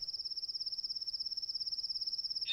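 A single cricket trilling up close, a fast, steady, high-pitched pulsing chirp that continues without a break over a quiet background.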